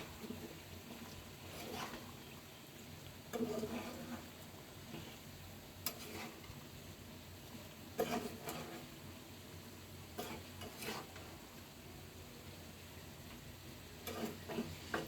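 Cut eggplant and potato with green chillies frying alongside tilapia in a pan, a low steady sizzle broken by periodic scraping stirs and clinks of a utensil against the pot.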